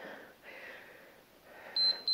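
An interval timer during a dumbbell workout for osteoporosis gives two short, bright electronic beeps at the end, following quiet background murmur.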